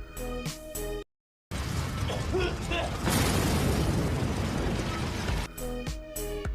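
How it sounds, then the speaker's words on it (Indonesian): A car blows up in a film, a broad, roaring blast that swells and rumbles for a couple of seconds amid soundtrack music, with a narrating voice likely running over it. "mobil pun meledak"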